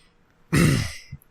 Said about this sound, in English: As I clear my throat for the ending spiel.